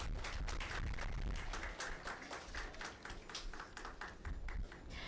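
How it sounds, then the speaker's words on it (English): Loud, sustained applause from a large audience at a stock exchange listing ceremony for Tridhya Tech Limited, dense clapping filling the room for about five seconds and tapering slightly near the end. "A huge round of thundering applause for Tridhya Tech."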